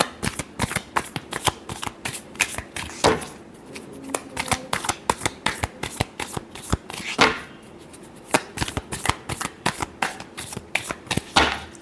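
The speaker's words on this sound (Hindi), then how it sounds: "Last shuffle." Tarot cards are shuffled in a steady run of crisp, rapid riffles and slaps, close and fairly loud, continuing without pause with no talk over it.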